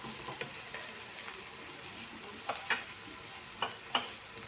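Prawns being stirred and fried with red chili powder for a spicy prawn dish, a steady close sizzle with scattered scraping clicks of a spoon against the pan, no talking.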